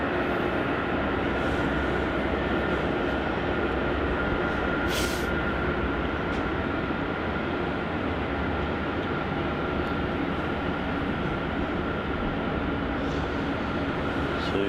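A Xiamen Airlines jet creeps along the taxiway toward runway 16 at Melbourne Airport, producing a steady, loud, unbroken engine roar and rumble that holds throughout, with occasional faint higher clicks or crackles on top.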